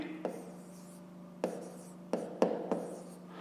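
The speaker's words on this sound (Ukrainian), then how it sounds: "Ну що ж, тоді так і запишемо. Пишемо дріб." A fraction being written by hand in a maths exercise, heard as five short, quiet scratches of pen or pencil on paper spread across a few seconds.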